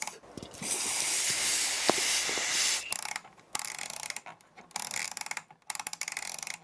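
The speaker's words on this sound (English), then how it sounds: "When I have the contact cleaner, let's flood everything in it." Can of contact cleaner spraying onto the rotary switches of an analog oscilloscope under repair, a close hissing jet lasting a couple of seconds followed by short choppy bursts and mechanical clicks.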